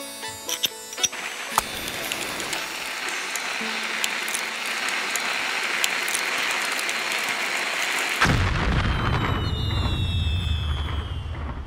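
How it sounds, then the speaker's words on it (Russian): Continuous crackling and popping of fireworks and blasts, dense and noisy throughout, with a deeper booming rumble swelling near the end. "Заложили бомбы, петарды, фейерверки."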